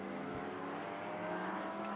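GT race cars, an Audi among them, roar on a circuit at a sprint cup race as they brake hard into a turn. A continuous distant engine drone dips and whines faintly throughout.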